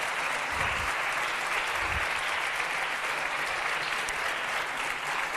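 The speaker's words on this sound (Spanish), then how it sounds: "Fuerte aplauso a Antonio Muñoz Molina que nos acompaña hoy." Dense, steady audience applause at a literary book event in Valladolid, welcoming writer Antonio Muñoz Molina to the stage; continuous clapping from a large crowd with no break throughout.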